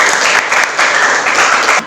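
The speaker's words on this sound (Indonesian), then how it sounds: "Boleh tepuk tangan anak-anak." Schoolchildren clap in a classroom, a loud, close, bright patter of many small hands that surges and dips in short waves before trailing off.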